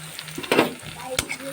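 Garlic-ginger paste hits cooked tomatoes in a hot pan for motor ghugni, giving a soft sizzle with a couple of sharp spoon-stirring scrapes and clinks close by.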